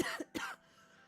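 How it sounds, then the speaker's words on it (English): Two sharp, close coughs come in quick succession, followed by a faint breathy trailing sound. No voice is heard. "I don't cough this much when I am not streaming"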